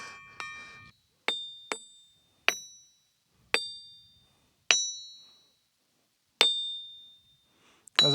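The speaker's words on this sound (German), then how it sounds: "Glockensteine. Ich glaube, wie ein tibetanischer Tempel ist das fast." Bell stones, or ringing rocks, on the Andean Altiplano are struck one at a time, giving seven clear, bright, bell-like pings that each ring out and decay in a quiet outdoor setting.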